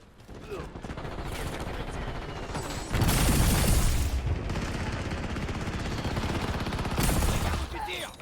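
Gunfire in the Warzone video game: sustained automatic bursts and rapid shots, loud and close, with heavier volleys swelling mid-clip and toward the end, a game voice faintly underneath.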